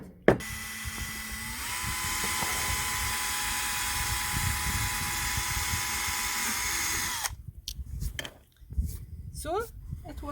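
A power drill bores a hole while a boat hatch is replaced, running steadily for about seven seconds with changing pitch, then stopping, followed by handling clatter and a brief voice.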